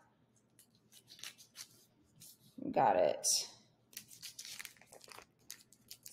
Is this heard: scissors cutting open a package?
yes